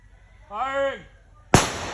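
A single sharp, loud report from a .50 caliber rifle, sudden and close with a short decaying tail, following a brief spoken shout.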